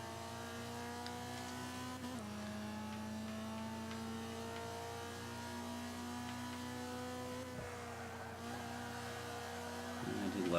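A D Class Mazda MX-5 Miata races on the Mojave track in Forza 5, its engine holding a steady high drone with brief shifts in pitch and a rising rev near the end, heard faintly.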